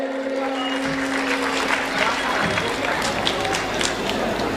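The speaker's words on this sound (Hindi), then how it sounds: "ताली बजाइए" Dense, steady applause from an audience at a Ramlila stage performance of the Sita abduction episode in Chhindwara, with some crowd voices mixed in throughout.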